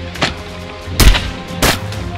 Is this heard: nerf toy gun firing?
yes